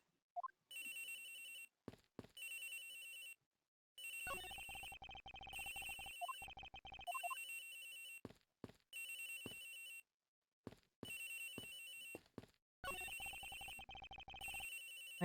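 A telephone rings in the Ace Attorney Investigations video game, its electronic bell repeating in regular bursts separated by short silences, loud and alone without talk.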